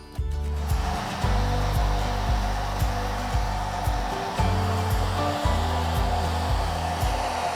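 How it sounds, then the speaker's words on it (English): A handheld hairdryer blowing on wet paint to dry a painting, a loud continuous whooshing roar up close, pulsing slightly as it is moved, with no talking. "I'm gonna speed up the process of this drying just by adding the hairdryer"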